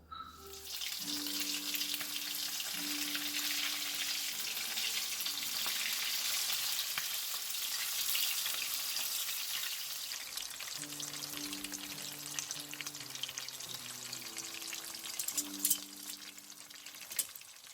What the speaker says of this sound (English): so now I'm going to start to fry them.